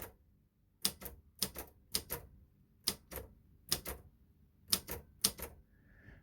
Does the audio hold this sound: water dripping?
no